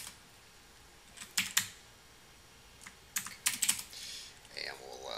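Bursts of clicky typing on a computer keyboard, close and fairly crisp, coming in short clusters separated by pauses, with a voice talking faintly near the end.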